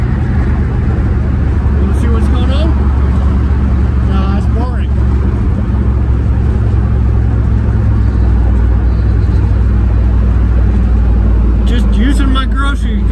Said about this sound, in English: Merge onto the freeway.